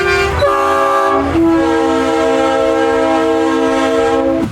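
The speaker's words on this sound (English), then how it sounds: "all of the car trailers are coming in and honking at folks" Long, loud horn blasts from car-hauler trailers arriving at the Talladega 500, sustained sustained chord-like honks that break and restart, filling the clip with no talk over them.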